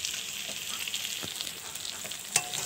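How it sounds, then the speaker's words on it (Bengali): Small topshe fish fry in hot oil, giving a steady close hiss and crackle with a few sharper pops, no talking over it. "আর এদিকে হচ্ছে সেই তোপসে মাছগুলো ভাজা"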